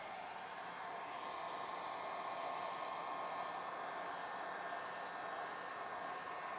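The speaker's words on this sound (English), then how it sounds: "Now I'm going to take the heat gun," Heat gun blowing hot air onto paint protection film, a continuous close whooshing roar with a steady motor whine, unchanging throughout with no voices.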